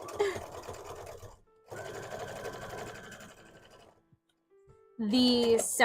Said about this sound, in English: But I'm gonna sew these Kirby bodies real quick